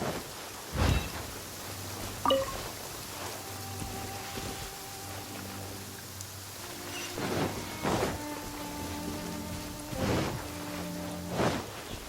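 Video game rain hisses steadily throughout while several rumbling thunder cracks break out at intervals, with a low hum underneath and no talking.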